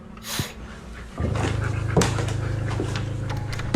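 A nearby dog pants and lets out short, high whimpers, a brief restless sequence of breathy huffs and thin whines.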